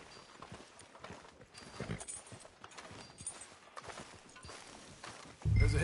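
In Red Dead Redemption 2, a horse's hooves clip-clop in a steady walking rhythm, fairly faint and close, ending with a louder low thump.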